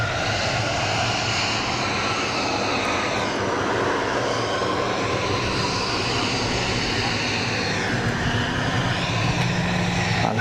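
A Gulfstream G450 business jet at Zurich Kloten Airport gives a loud, close, sustained engine roar with a rising and falling whine, with no talking.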